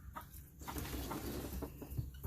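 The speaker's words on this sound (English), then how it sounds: "we have so many chickens in here that they'll break them" A crowded hen house full of egg-laying chickens gives off steady, overlapping clucks and murmurs, close and moderately loud throughout.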